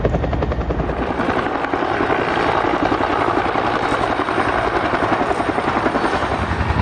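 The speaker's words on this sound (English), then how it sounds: "These are muscle aircraft, U.S. Air Force Hueys, basically, used for VIP transport." U.S. Air Force Huey helicopters used for VIP transport flying over Washington D.C., a loud, steady rotor thrum with rapid blade chop throughout, no talk.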